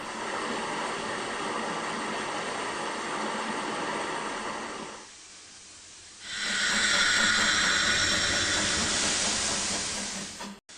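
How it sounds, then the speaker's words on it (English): A steam engine hisses loudly and steadily, pauses briefly into a quieter rumble, then releases an even louder burst of hissing steam. "giving Uppity Up all that steam, because it takes water to make steam."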